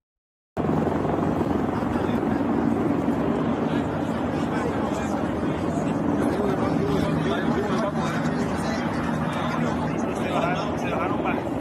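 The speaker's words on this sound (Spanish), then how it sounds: "Varios helicópteros anduvieron ahí en ese momento por esta tarde, sobrevolando esta área." Several helicopters' steady rotor drone fills the scene continuously, loud and close overhead above Manhattan, New York, after a shooting, with faint voices murmuring underneath.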